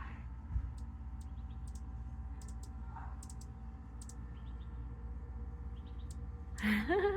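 Brief high chirps repeat in quick bursts over a steady low hum, with a louder rustle near the end.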